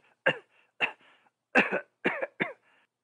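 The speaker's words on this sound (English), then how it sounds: "How long have you had that cough?" A person coughs repeatedly at close range, five harsh bursts in quick succession with brief quiet gaps between.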